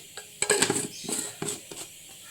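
Chili powder is spooned into a cooking dish: several quick metallic scrapes and taps of a spoon against the pot, close and fairly soft, with no talking.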